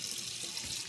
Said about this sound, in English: I am going to wash my hands right now